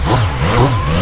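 A Yamaha MT-09 motorcycle engine revs loud and close, a steady throaty drone with rising pitch sweeps and no talk over it.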